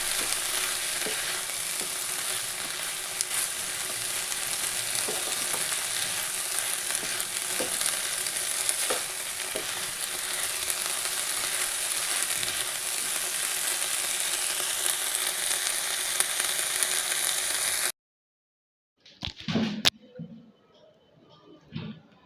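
Flat beans frying over a high flame give a steady, loud, close sizzle for about eighteen seconds, then it cuts out and a few short clatters follow.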